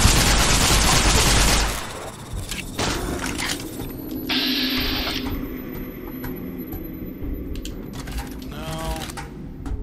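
Gunfire in Fallout: New Vegas opens with a loud, dense burst of shots, then thins into scattered sharp cracks and clicks over the remaining seconds, with some talk in between.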